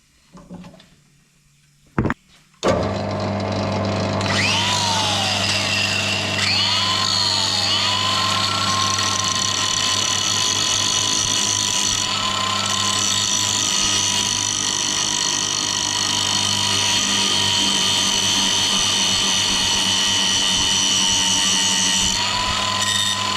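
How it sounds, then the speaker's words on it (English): Power tool grinding the edge of a socket thin while working on a 1976 Toyota Corona, a loud steady whine with a low hum that runs continuously for about twenty seconds after a short start. "So I'm going to try grinding a socket really thin on the edge, see if that helps"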